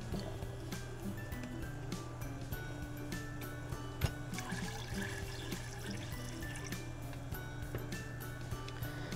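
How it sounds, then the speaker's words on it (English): Water runs steadily into xanthan gum to make a clear cosmetic gel, a continuous low splashing pour under a faint background hum, lasting the whole stretch. "So add water to it."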